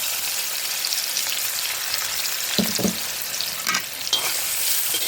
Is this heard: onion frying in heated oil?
yes